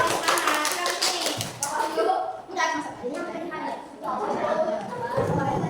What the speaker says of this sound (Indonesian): Silakan tepuk tangan dulu dong.